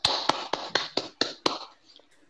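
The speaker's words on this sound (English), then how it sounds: "a big round of applause" An audience claps at a meeting in sparse, evenly spaced claps, about six or seven sharp hits that thin out and fade to a few faint ones near the end.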